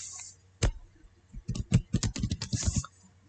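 Keys clacking on a computer keyboard: one isolated keystroke, then a quick burst of about a dozen close, crisp taps in an uneven rhythm.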